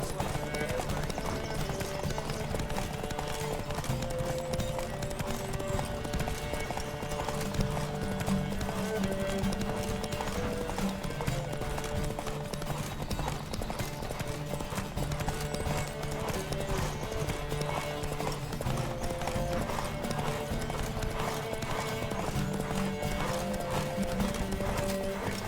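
Rapid rhythmic hoofbeats of a galloping horse in The Witcher 3 video game run continuously over a dense musical backdrop, with an occasional whinny.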